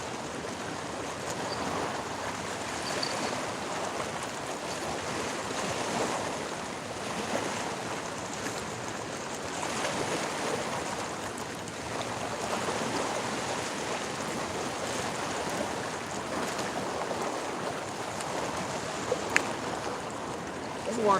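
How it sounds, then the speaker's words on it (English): Choppy Ohio River water slaps and splashes steadily against a fishing boat, a continuous close wash of broadband noise with no pause over about twenty seconds. "This fucking water is choppy."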